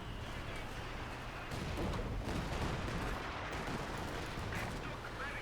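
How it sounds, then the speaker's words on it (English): Dense, continuous rumbling of Panzer Warfare artillery barrages in Company of Heroes 2, with heavy booms blending into a loud wash of battle noise. "Multiple Panzer Warfare barrages coming on in."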